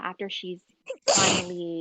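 A person talks briefly, then a single loud close sneeze bursts out and trails off.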